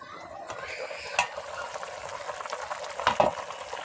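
Malabar spinach and pumpkin being stir-fried in a wok produce a soft, steady sizzle with bubbling, broken by a few sharper stirring clinks against the pan.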